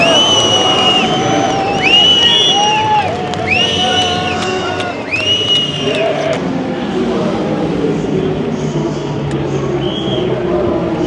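A crowd cheers riders at the finish of the 24H du Mans Moto endurance motorcycle race, with loud, continuous whoops, shouts and whistles close by, thinning into a steadier roar of hubbub.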